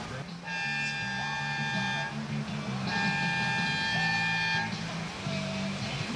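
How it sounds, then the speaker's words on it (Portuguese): A long steady horn blares twice to signal the end of a heat at a surf contest, over loud, continuous background noise, each blast lasting about one to two seconds, with crowd and commentary-like voices underneath. "Pegou antes no toque da buzina."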